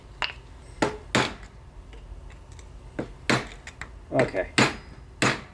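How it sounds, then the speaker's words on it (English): Sharp metal-on-metal hammer strikes drive a bushing out of a Ford tractor's row-crop wide front axle with a bushing driver, about eight close, loud blows in an uneven rhythm, with a brief spoken word between them. "If not, I'll just drive it out with the"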